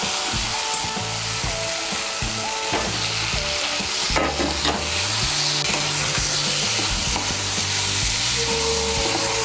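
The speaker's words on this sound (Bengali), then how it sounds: "মিশিয়ে নিয়ে আঁচটাকে মিডিয়াম করে আলুটাকে একটু ভেজে নেব" Boiled, cut medium potatoes stirred and fried in a spice paste for chickpea ghugni, a loud continuous sizzle with repeated scraping and knocking of the spoon against the pan, no voices.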